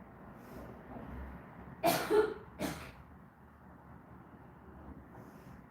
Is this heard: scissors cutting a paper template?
no